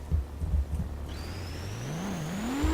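A vehicle with an installed jet engine boosts in Garry's Mod, a low rumble rising into a climbing whine that builds steadily louder over a couple of seconds, heard alone.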